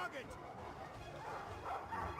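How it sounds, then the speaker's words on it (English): War dogs bark and yip in a Total War Arena battle, faint and mixed into a busy background of battle noise and crowd babble, with someone talking over them. "let's just target these dogs"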